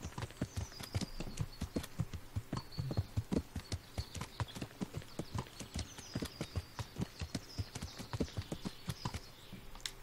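Horse hooves in the Kingdom Come: Deliverance video game clip-clop in a steady, even walking rhythm, crisp and close, with no voices over them.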